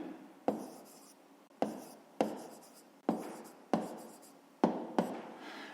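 Pen writing on paper during a 5th-grade math exercise, heard as a string of separate close scratchy strokes, each starting sharply and fading, with no voice.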